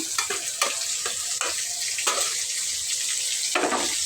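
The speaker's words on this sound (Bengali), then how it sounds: "এখন ছোট চিংড়ি মাছ আর চিংড়ি মাছের মাথা যেটা বেটে নিয়েছিলাম এটা দিয়ে দিলাম" Small prawns and ground prawn heads hit hot oil in a pan with a bright, continuous sizzle. Several sharper crackling bursts and scraping stirs rise over it, close and fairly loud, with no talking.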